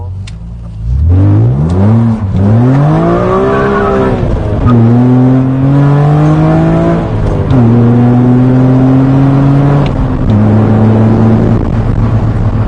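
A BMW Z3 fitted with an S54 engine and a six-speed gearbox pulls hard, its loud engine note rising through several upshifts with brief drops between gears, heard from inside the car.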